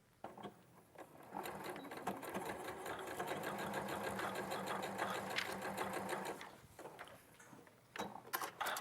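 A domestic sewing machine stitches fabric in a steady run of rapid mechanical ticking for about six seconds, then stops; a few short clicks and handling knocks follow.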